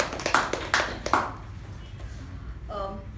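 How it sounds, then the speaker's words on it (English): Applause at a Toastmasters club meeting, a few sharp bursts of clapping from a small group that quickly thin out and fade, followed by a brief spoken voice. "can we have a huge round of applause, please?"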